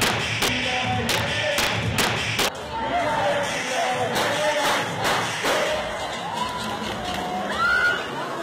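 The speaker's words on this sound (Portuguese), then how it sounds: "dá para ver o clarão e ouvir os estampidos dos tiros" Gunshots ring out at a crowded club dance party, a series of sharp loud bangs in quick succession over the first few seconds amid crowd noise and shouting voices.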